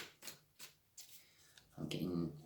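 Tarot cards are shuffled close up in a few quick riffling bursts, ending in a longer, denser riffle; a voice talks briefly underneath.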